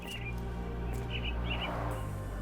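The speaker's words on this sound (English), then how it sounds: "Minor birds, if I'm not mistaken. Beautiful creatures. Sad that they're caged here." Caged mynah birds in a Sherlock Holmes: The Awakened game scene giving a few faint, short chirps over a low steady ambient hum, quiet and somewhat distant.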